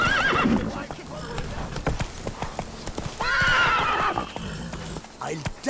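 In The Witcher 3, the horse Roach gallops with quick, steady clip-clop hoofbeats and lets out neighs, while characters talk over the hooves.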